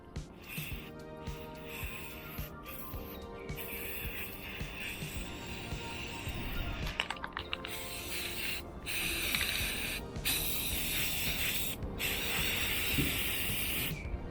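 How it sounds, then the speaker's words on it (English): A spray can hisses steadily as black paint coats the reverse side of a broken Yamaha XVS 950 motorcycle fender trim, a continuous airy rush broken by brief pauses, fairly quiet and with no talking. "I'll just spray the reverse side completely black as well"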